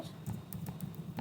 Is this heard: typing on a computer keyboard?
yes